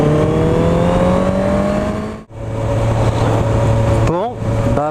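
Honda CB650F motorcycle engine drones steadily while riding, loud and close with wind noise, dipping briefly mid-ride before climbing again with a short rev change near the end; a voice talks over it.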